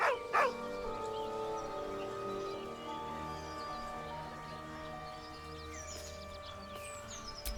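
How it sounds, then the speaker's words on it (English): A dog in the Baldur's Gate video game whines with deep, heartbroken tones, starting with a sharper yelp and then settling into a drawn-out whimpering moan over a steady game soundscape. "With a deep, heartbroken whine, the dog bows his head."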